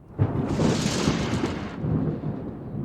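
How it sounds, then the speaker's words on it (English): Thunder from a heavy summer thunderstorm in the Berchtesgaden mountains near the Watzmann: a sudden crack swells into a deep, rolling rumble that lasts a couple of seconds, then fades into a lower grumble, heard alone. "The end of a hot summer day is often decided by heavy thunderstorms."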